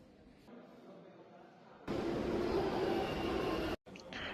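A crowded metro train runs along the line, a quiet rumble at first that swells into a loud, steady roar, then cuts off abruptly before resuming at a lower level.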